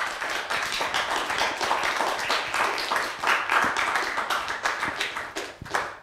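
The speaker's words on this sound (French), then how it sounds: "Est-ce qu'on peut applaudir?" Sustained clapping from a live audience at a student youth event, dense and steady for several seconds with individual hand claps standing out, then thinning slightly toward the end; no voices over it.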